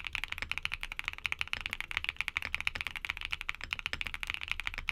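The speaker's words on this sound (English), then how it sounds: "Here's the sound test." Close-up typing on a mechanical keyboard fitted with HMX Retro T switches, a brisk, steady stream of crisp clacking keystrokes with no other sound.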